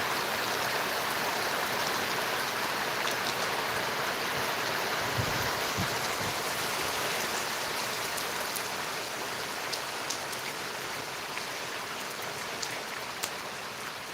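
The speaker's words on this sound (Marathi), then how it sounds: "पुन्हा परत चांगले टप्पुरे थेंब आलेले" Heavy raindrops pour down steadily over farmland, a dense, even hiss of rain on the surface that continues without a break and with no voices.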